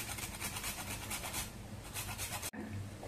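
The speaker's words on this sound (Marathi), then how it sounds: "आता आपण थोडंसं जायफळ किसून घेऊया" Nutmeg scraped on a small grater in quick, faint rasping strokes that stop partway and then resume softly, close and alone.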